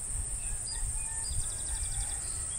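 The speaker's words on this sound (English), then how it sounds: "It's all quiet except for the neighbors' roosters." Neighbors' roosters crowing faintly in the distance over quiet rural ambience, several drawn-out calls overlapping through the short stretch, with a steady high insect-like hum above.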